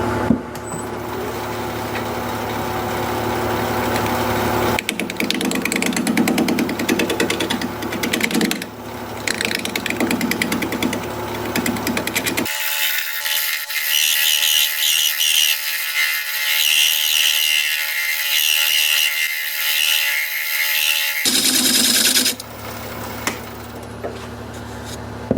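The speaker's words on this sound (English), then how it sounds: "I'm just going to use the bottom edge of the bowl gouge to scrape along there like that." Wood lathe spinning a five-legged turning while a bowl gouge, bottom edge used as a scraper, shears across the wood: a continuous loud broadband scraping and whirring with shifting tone and no speech.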